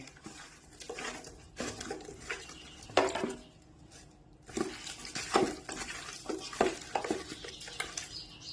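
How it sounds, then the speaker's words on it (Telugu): A spoon stirs and mixes biryani masala, garam masala and chicken masala in a pot, giving irregular scraping and clinking strokes with quiet pauses between bursts, close by and without talk. "బిర్యానీ మసాలా, గరం మసాలా, చికెన్ మసాలా అన్నీ ఒకసారి వేసుకొని మిక్స్ చేసుకోవాలండి బాగా వీటిని"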